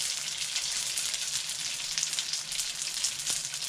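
Crab rangoon deep-frying in hot oil, a steady, dense sizzle and crackle that holds level throughout, close up, with no voices.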